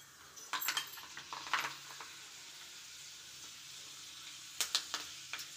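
Fenugreek seeds hit hot coconut oil with popping mustard seeds, giving a soft steady sizzle punctuated by sharp crackling pops and clinks in two clusters, close up with no talk.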